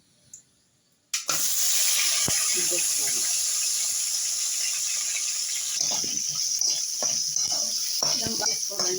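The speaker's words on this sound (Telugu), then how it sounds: "అవి బాగా ఈ విధంగా కడిగేసుకోవాలండి మట్టి అందు ఉంటుంది కదా" Dried fish being rinsed and washed by hand in water makes a steady, close rush of splashing and sloshing that starts abruptly after a short quiet moment and continues throughout.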